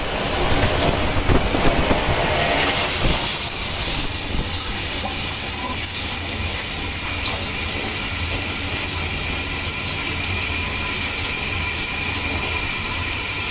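Water gushes steadily from a newly installed faucet during a remodel, a loud unbroken hiss and splash that starts with a burst and settles into an even rushing flow, with no talk over it.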